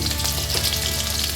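Dense, loud frying hiss from a pan seasoned with salt and turmeric, a brief unbroken sizzle with faint stirring.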